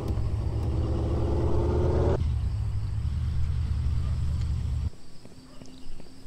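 A car engine drives in the Car Sale Simulator 2023 video game as a loud, steady low rumble that cuts off abruptly partway through, leaving quieter game sounds.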